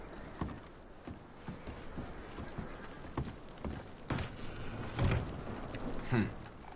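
Horse hooves clopping as horses move about in Red Dead Redemption 2, several soft irregular footfalls with occasional heavier thuds, moderately close, over faint ambient background with no clear speech.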